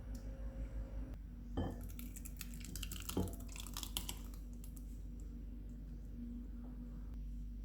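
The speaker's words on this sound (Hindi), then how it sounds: "खीर को डिश में निकाल लेते हैं।" Rice kheer being served from a pot into a dish, with clinks of a spoon or ladle against metal and glass and some soft wet scraping, heard close up with no talking.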